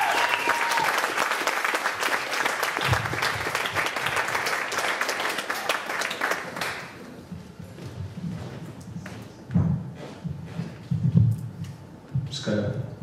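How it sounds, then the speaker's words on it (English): Audience applause greets performer Johnny Hobbes at a Zeitgeist chapter media festival in New York City, dense clapping for about six seconds, then fading to scattered claps, shuffling and stage noise. "Everybody, please give me a big round of applause for our man Johnny Hobbes."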